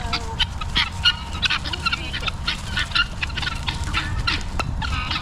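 Geese and other fowl honk and call continuously at close range along an outdoor trail walk, a busy overlapping flock chorus with a steady low rumble underneath.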